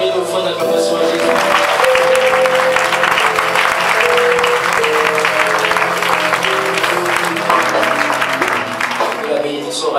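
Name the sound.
congregation applauding for Jesus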